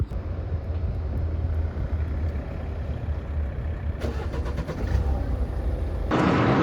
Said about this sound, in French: C'est reparti avec la voiture.